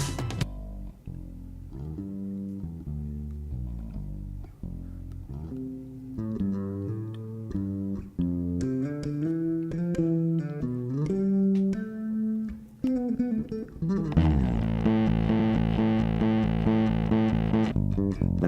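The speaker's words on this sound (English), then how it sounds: "And that's two bass tones." Deep bass guitar notes played one after another, sustained low tones that shift in pitch before a denser, buzzier passage near the end.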